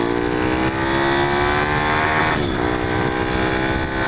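A motorcycle engine revs close by, its pitch climbing and dipping as the throttle opens, loud and continuous.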